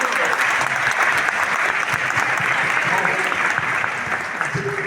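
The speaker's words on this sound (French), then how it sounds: "afin que la salle puisse applaudir le maire de Dakar" A conference hall audience at Paris city hall applauds the mayor of Dakar, a continuous, loud, even roar of clapping from many people with faint voices underneath.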